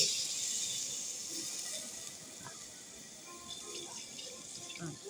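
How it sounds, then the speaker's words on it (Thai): Plain water poured into a pan of cooked pork that was stir-fried in oil with curry paste, a steady close running and splashing wash with faint clinks, no talk over it. "ัดหมูสุกแล้วก็เอาน้ำเปล่าลงไปเลย"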